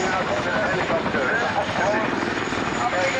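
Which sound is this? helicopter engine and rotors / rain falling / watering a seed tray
helicopter engine and rotors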